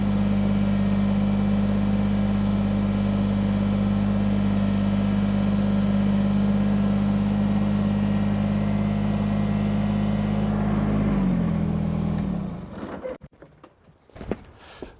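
A vehicle pulling a trailer loaded with firewood drones steadily at close range with a constant engine note, then pulls away and fades out over the last few seconds, leaving faint rustling.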